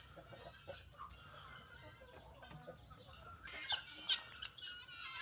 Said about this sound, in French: venez découvrir des poules et des pintades